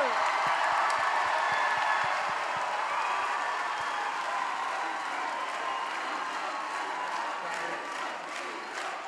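Large audience at the opening ceremony of Grand Kiff 2025 in La Force applauds and cheers, a dense, steady wash of clapping that holds loud throughout, with scattered whoops.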